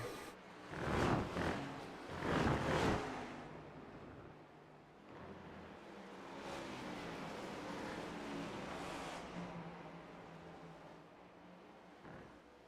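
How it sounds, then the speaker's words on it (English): Race cars passing over the rumble strip at Watkins Glen, two loud close passes early on followed by a steadier, softer stretch of engine and rumble noise, with one more brief burst near the end. "You can hear them as they enter that rumble strip."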